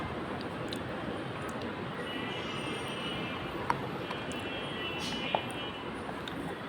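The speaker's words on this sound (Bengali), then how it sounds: "ওরে ভাই ট্রেন এসে গেছিল" A train pulls in within the Granny remake horror game, heard as a steady, dense rumbling drone that runs the whole time, with a couple of sharp metallic clicks standing out over it.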